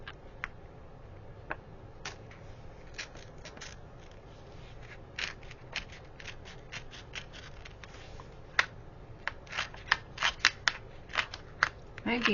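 Blade snips and small crisp cuts through paper pieces for a scrapbook layout, scattered at first then quicker and louder toward the end, close up over a low background hum.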